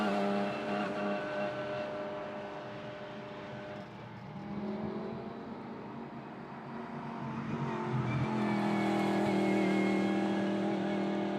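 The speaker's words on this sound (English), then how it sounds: "And that is their car running." A race car engine drones on track at a circuit event, its steady tone rising and falling as it moves, with commentators talking throughout.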